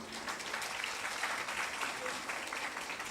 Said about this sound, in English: Let us express our gratitude with a huge round of applause for him.